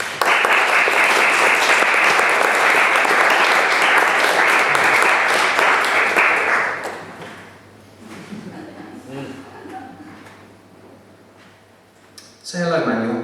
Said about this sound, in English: So please, a round of applause for Emmanuel.